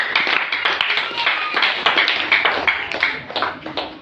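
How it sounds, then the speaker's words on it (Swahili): Church congregation applauding for Jesus, a burst of close, crisp hand claps that thins and fades toward the end, with some voices mixed in. "Pia Yesu makofi"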